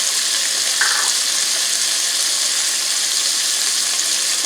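Minced garlic sizzles loudly and steadily in a hot pan for shrimp and sausage pasta, a constant close hiss of frying with no talk.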